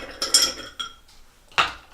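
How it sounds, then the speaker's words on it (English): Ice cubes clatter into a small cup for a whiskey sour, three or four sharp clinking hits close by, with no talking. "Throw some ice."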